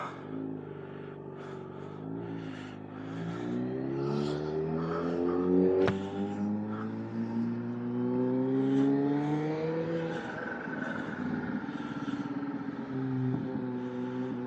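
A Kawasaki ZH2 motorcycle pulls away close by, its engine note rising steadily through the gears for several seconds, then easing off and settling before building again, with no talk over it.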